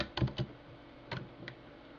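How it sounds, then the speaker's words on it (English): Typing on a computer keyboard while editing objects in 3D modelling software produces a few quiet, close key clicks: a quick pair, a pause, then two more taps. "let's start typing in values"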